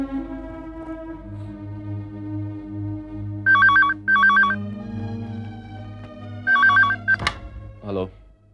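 An outgoing phone call rings through a handset in a domestic drama scene: several short bursts of electronic ringing tone, spaced apart over a low steady hum, followed by a sharp click.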